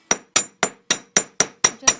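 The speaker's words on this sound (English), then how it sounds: "And then I flip the hammer over and just put little divot marks on that." Hammer tapping metal wire on a hard surface while making pink earrings, eight sharp evenly spaced metallic taps, loud and close, with no talk.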